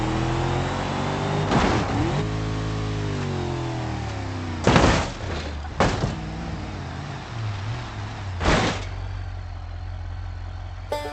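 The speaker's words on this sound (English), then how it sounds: "Now for a 65 miles per hour run." A Pontiac Trans Am accelerates on a 65 mph run, engine note rising and falling through several sharp gear-change surges and revs, loud and close throughout.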